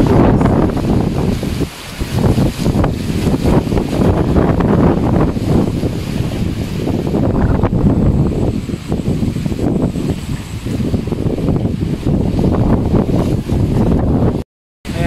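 Strong typhoon wind in Urdaneta, Pangasinan roars continuously against the microphone, a loud, blustery rush that barely lets up before cutting out abruptly near the end.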